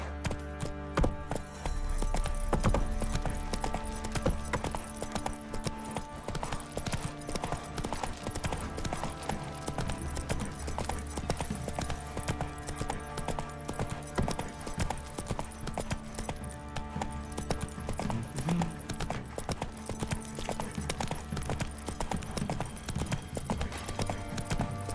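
Rhythmic hoofbeats of a horse, Roach, galloping in the video game The Witcher 3, a steady loud clip-clop running continuously alongside background game music and ambience.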